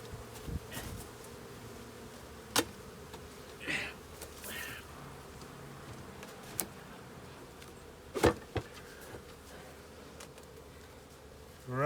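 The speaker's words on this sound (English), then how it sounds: "Sorry bees, I was in there a long time. Go and get yourselves in the hive." Honeybees at an open hive during a spring inspection make a continuous, fairly quiet buzzing drone close by, with occasional soft knocks and handling thumps.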